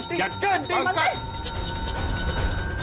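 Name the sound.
bell ringing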